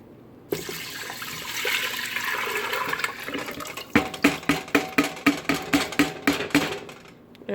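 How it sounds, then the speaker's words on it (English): Eight cups of water pour into a pot for basmati rice, first as a steady rushing stream, then as a run of rhythmic glugs as the container empties. "and then I'm just gonna pour this in here."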